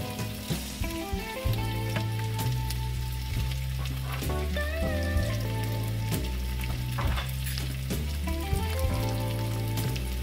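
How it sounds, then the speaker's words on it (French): Ground meat frying in hot oil in a pan, a loud, steady sizzle that runs through the whole stretch, with occasional scrapes and stirring knocks and some background music underneath. "Et je viens mettre ma viande hachée. Donc, je vais bien rôtir, bien la cuire."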